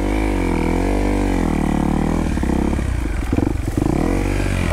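A motorcycle riding off on a cloudy ride, engine loud and close with a steady drone that shifts pitch as it gets going, with a rise in revs near the end.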